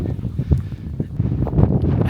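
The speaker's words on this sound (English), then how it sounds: "It's got a bit windy, not sure if you can hear me. It's a bit blowy." Loud, blustery wind buffets the microphone in low rumbling gusts, rising and falling throughout without any talking.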